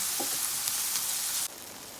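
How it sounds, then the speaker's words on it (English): Butternut squash sizzling in a pan, a steady hiss that drops abruptly quieter partway through, with faint stirring sounds. "we're gonna add our butternut squash or pumpkin to the pan"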